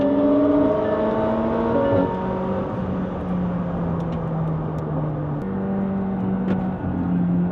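A McLaren 720S sports car accelerates hard on a race circuit in Dubai, its engine droning loud and close through rising gear pulls with brief dips at the gear changes.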